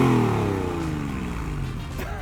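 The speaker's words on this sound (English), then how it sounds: "this is what an old, naturally aspirated flat six sounds like" An old naturally aspirated Porsche 911 flat-six revs loud and close, its harmonics falling steadily as the engine winds down, with a brief rise again at the very end.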